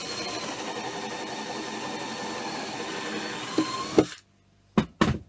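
A power drill whirs steadily while boring a screw hole into a homemade anti-waste chicken feeder, then cuts off, followed by a silence and two short bursts of drilling.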